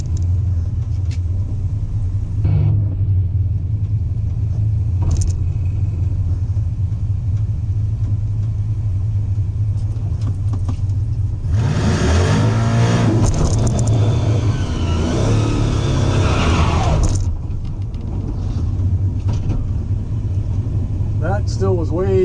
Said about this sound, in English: we're going to try another burnout.